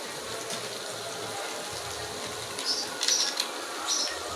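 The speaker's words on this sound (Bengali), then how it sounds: "সেদ্ধ হয়ে আসছে প্রায় নুডলসটা।" A pot of noodles boils steadily, giving a soft continuous bubbling hiss with a few louder pops near the end, close and unaccompanied by talk.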